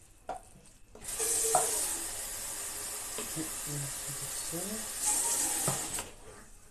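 Wheat sautéed with gizzards being stirred in a frying pan, a steady close sizzle with scraping utensil strokes against the pan, growing louder for a stretch and then easing off.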